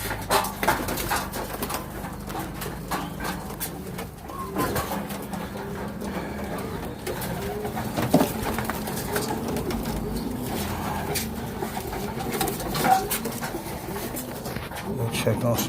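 Racing pigeons flutter and coo close by as they return to the loft after their first 5-mile flight, a steady, busy bird bed with soft wingbeats and calls throughout.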